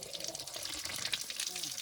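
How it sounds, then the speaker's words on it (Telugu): Water from a tap runs steadily into a bottle at a temple construction site during a solo overnight camping trip, a continuous close splashing stream with faint voices in the background. "బాటిల్లో నీళ్ళు పట్టుకుంటున్నాను"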